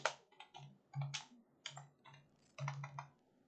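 Typing on a computer keyboard during a Python coding lesson, with short bursts of close, crisp key clicks separated by brief pauses.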